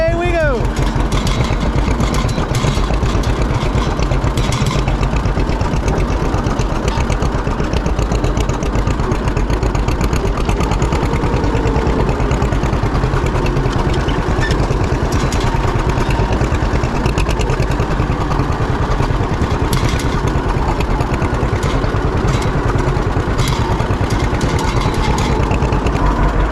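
A motorcycle engine starts and idles with a loud, steady, rumbling chug that runs throughout, under speech that is hard to make out.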